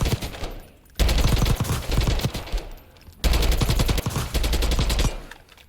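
Automatic AK-47 fire in the Call of Duty: Warzone video game: two long, loud bursts of rapid shots, split by a short quiet gap, with no talking.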